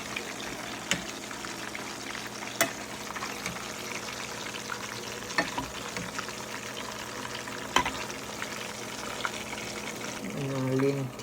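Fish fries in a large pan with a soft, continuous sizzle and occasional clinks of a utensil, fairly close, with a brief voice near the end.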